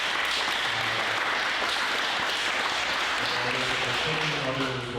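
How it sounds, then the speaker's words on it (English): Audience applause for three presenters at a tech community meetup, a steady full crowd of clapping, with a faint tonal hum and murmured voices beneath it. "let's give our presenters another round of applause"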